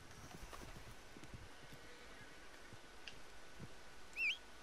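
Horse hooves clip-clop in Red Dead Redemption 2 while riding alongside another horse outdoors, a faint, irregular run of soft thuds over wind-like background with a brief louder blip near the end.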